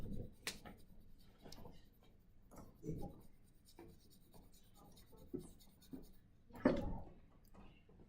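A pencil shades back and forth across paper in scattered scratchy strokes, soft and close, with quiet pauses and a louder scrape near the end.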